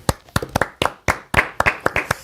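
Audience applause breaking out at a Korean National Assembly member's talk-show appearance, a burst of close, uneven hand claps with irregular sharp strikes and no voices.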